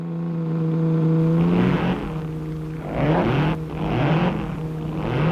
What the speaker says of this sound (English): Raymond Mays comes to the line with the Zoller-blown ERA.